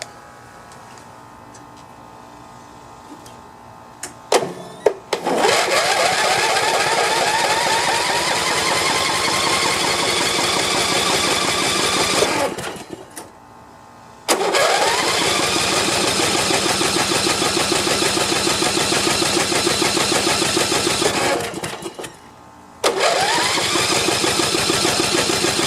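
Snapper rear-engine rider mower engine turning over in three long cranking bursts separated by brief pauses, a steady, loud, rapid churning that never catches and runs.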